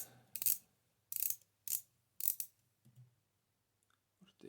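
Small screws being loosened on a Torpedo Dynacord typewriter, giving a few short, close metallic clicking and scraping bursts separated by quiet gaps.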